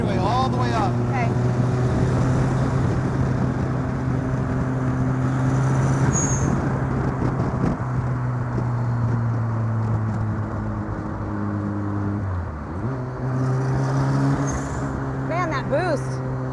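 Turbocharged Mazda RX-7 rotary engine in a home-built Lotus 7 replica roadster, droning steadily and loud as it accelerates along a straightaway, with a brief dip in pitch near the end and people talking over the engine.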